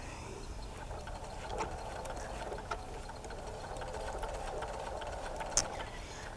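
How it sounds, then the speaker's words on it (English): A sewing machine runs a seam with backstitching at the ends while a tumbler is made, giving a fairly quiet, steady mechanical whir with a few brief clicks. "At the beginning and the end of this seam, I will backstitch because you do want it to be stronger on the end."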